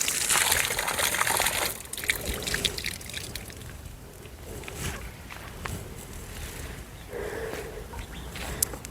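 Pure mountain spring water runs from a tap set up for cows and buffaloes at a cattle shelter, a soft continuous trickle and splash with some outdoor shuffling and handling noises.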